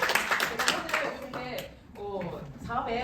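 Audience clapping at a business leader's speech event in Busan, a burst of hand claps up front that gives way to a voice talking over the tail of the applause.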